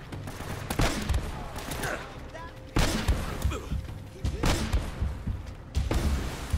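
Video game gunfire in Uncharted: Drake's Fortune comes as several loud, close volleys of shots with thuds in between, spread over a few seconds. A voice talks beneath part of it.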